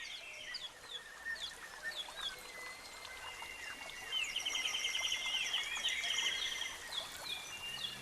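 Chirping birdsong, light and fairly faint, fills a shell grotto at an Austrian palace, with repeated short tweets and trills over a soft trickle of running water that grows busier halfway through.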